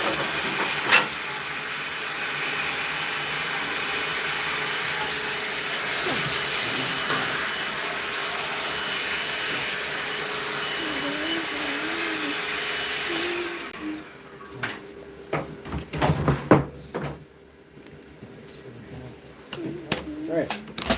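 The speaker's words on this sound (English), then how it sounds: "we're actually going to use the bandsaw" A bandsaw cuts through a knotty piece of wood with a steady, loud whirring drone for most of the stretch, then winds down into quieter clatter and handling noises near the end, with no talk over it.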